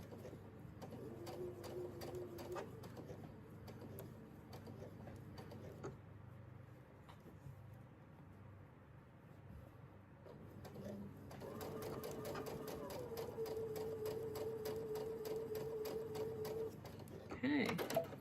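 Sewing machine stitching quilt fabric in two runs of fast, even mechanical whirring with clicking needle strokes, separated by a pause, with someone speaking quietly nearby.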